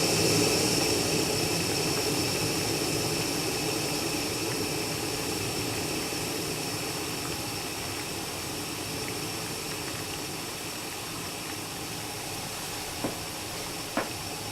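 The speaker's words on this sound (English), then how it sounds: "We've got a rolling boil here." Water at a rolling boil on a DPower stove gives a steady, close rushing hiss and roar that holds throughout, with a couple of faint ticks near the end.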